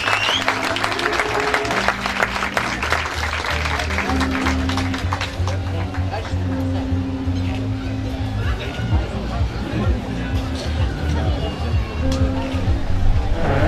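A crowd at a Turkish family wedding celebration claps for the couple in sustained, dense applause mixed with crowd chatter and a steady low music drone.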